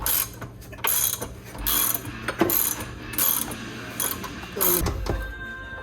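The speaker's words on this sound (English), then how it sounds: "Start jacking it?" Jack being ratcheted to raise the transmission during an automatic-to-manual swap on a Toyota JZX90, a steady run of loud metallic ratchet clicks in repeated bursts, close by with no talk.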